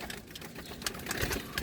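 Pigeons in a small loft coo softly close by, low throaty calls repeating irregularly amid faint rustling, with no talk.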